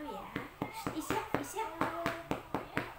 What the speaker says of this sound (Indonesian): Tepuk punggung dulu ya.